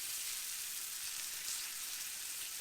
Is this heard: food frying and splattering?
yes